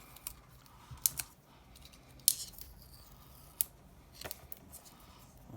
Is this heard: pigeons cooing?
no